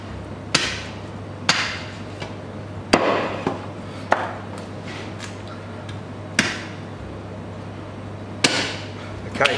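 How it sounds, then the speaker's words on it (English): A cleaver chops through a pork loin to cut off a bone-in pork chop, with several sharp, close chopping blows at irregular intervals over a low steady hum. "very big pork chops. So I'm going to cut one off."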